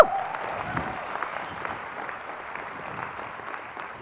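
An audience at a nursing awards ceremony applauds the award winners, with steady, moderately distant clapping and faint cheers throughout.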